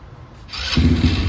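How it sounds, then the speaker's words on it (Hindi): An Xtreme 300cc ATV quad bike, 2022 edition with a Taiwan-made engine and double silencer, starts up: a quick cranking catch bursts into a loud, steady close rumble that holds to the end. "और ये गाड़ी ने स्टार्ट हो गया"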